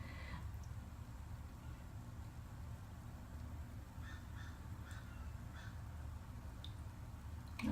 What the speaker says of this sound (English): I'm sure y'all can hear the crows and my chickens there in the background.